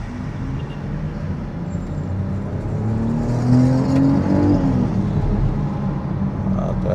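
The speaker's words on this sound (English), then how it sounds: "So let's hear how the B58 sounds from under there." B58 engine of a 2025 BMW X3 M50 driving through a bridge underpass, a steady close drone that swells as revs climb, with road noise around it.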